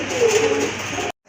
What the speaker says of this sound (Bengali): মাশাআল্লাহ বিগ সাইজের একজোড়া রাসগোল্লা কবুতর।